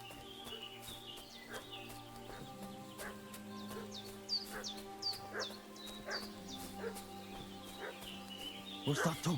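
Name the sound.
dog barking in a video game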